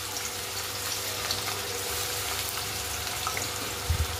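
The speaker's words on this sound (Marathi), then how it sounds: "तर हे बघा कांदा फ्राय होतो आता आपला मस्तपैकी छानसा" Finely chopped onion frying in hot oil, a low steady sizzle throughout with a few soft clatters near the end.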